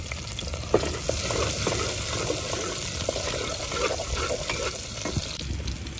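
Steady crackling sizzle of garlic frying in hot ghee, close and continuous, with a few clinks of stirring and no talking.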